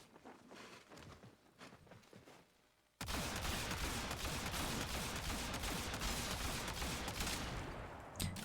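Pistol fire in a video game, tested against high-level enemies: scattered shots and footsteps at first, then a dense, loud, continuous barrage of rapid shots that runs to the end.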